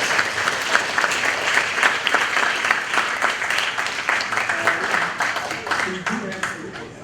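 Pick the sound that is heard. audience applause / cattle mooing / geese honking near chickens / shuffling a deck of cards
audience applause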